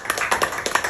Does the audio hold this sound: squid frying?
no